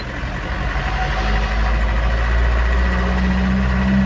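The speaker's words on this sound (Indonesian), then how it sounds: "Dan mobil yang melintas masih terlihat di sini, mobil besar semua dan membawa muatan." Large loaded trucks pass on a road near Rumbia, their heavy engines a loud, continuous low drone that swells slightly as they go by. No one speaks.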